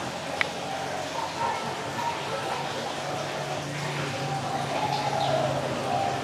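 A pet cu thổ turtle dove from Phú Yên gives soft, low cooing calls, fairly faint against a steady noisy background, with some voice-like sound nearby.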